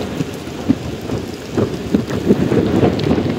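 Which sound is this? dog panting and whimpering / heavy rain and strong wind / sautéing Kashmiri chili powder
heavy rain and strong wind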